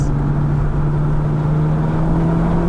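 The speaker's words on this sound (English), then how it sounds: "Listen to that exhaust. That is hilarious." A 2022 Hyundai Elantra N sport compact sedan drones steadily on a race track, its exhaust a constant loud hum with a sustained low tone and no breaks, heard from inside the car.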